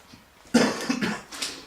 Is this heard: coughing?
yes